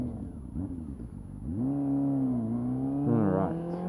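Up close, a motorcycle exhaust idles roughly, then is blipped into a loud rising rev that holds, dips and surges again with a warbling engine note; no voices heard.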